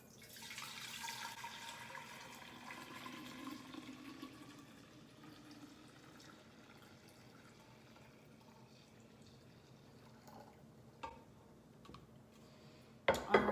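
Kombucha poured into a glass brewing jar makes a steady liquid splash and gurgle that gradually thins and fades, followed by a few small clinks and knocks at the end.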